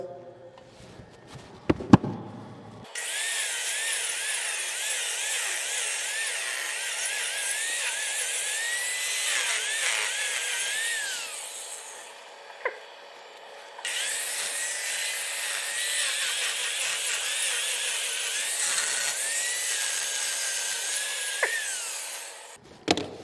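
A steady high whirring scrape of a tool cutting spinning wood, running continuously with a brief pause midway, fairly close and moderately loud.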